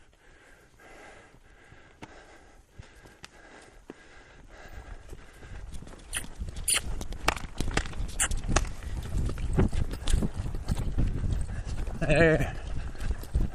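A horse's hooves clip-clop at a lope, starting faint and building into a close, loud run of rhythmic thuds, with a person speaking briefly over the hoofbeats.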